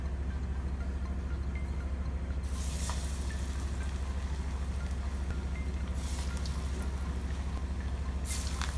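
Masala vada (paruppu vadai) batter frying in hot oil gives a faint, steady crackle and hiss under a constant low hum, with a few brief bursts of brighter sizzle.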